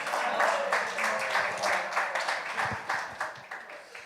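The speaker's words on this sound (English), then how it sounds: "So please give her a round of applause." An audience claps in a round of applause for Ms. Dominique Sharpton, a steady dense patter throughout that thins slightly toward the end, with voices mixed in.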